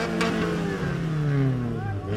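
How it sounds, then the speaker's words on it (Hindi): Racing and luxury cars of various brands rev at an auto show in Lahore, a steady engine drone with rising and falling pitch sweeps throughout, mixed with background crowd chatter. "मुख्तलिफ ब्रांड्स की रेसर और लग्जरी गाड़ियों ने शोर मचाकर अपनी मौजूदगी का"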